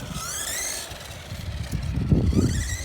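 WLtoys A979 1/18 scale RC monster truck with a 380 electric motor driving, a rising and falling motor whine with rumbling wheels and a louder burst near the end, no talking.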